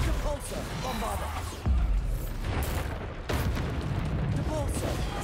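Booming spell blasts from the Bombarda explosion charm in Hogwarts Legacy, two or three heavy broadband hits landing over a continuous bed of game sound and voice.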